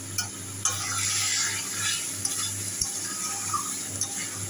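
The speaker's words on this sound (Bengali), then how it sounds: "আলু দিয়ে ভালো করে কষাচ্ছি।" Fish curry with potatoes is stirred and fried in a pan, giving a constant sizzle with a spoon scraping and knocking against the pan several times, near and loud, with no voices.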